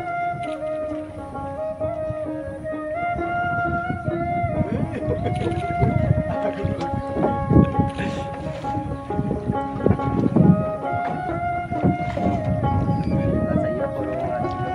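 A fishing trawler at sea off Kuakata rumbles with a steady engine drone and clattering deck noise, wind buffeting the microphone while people talk over it throughout.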